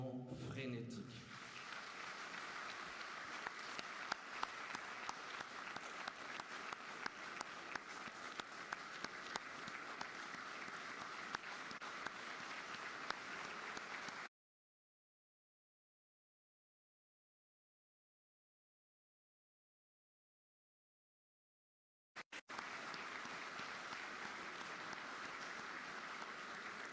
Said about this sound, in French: vous méritez notre admiration et nos acclamations frénétiques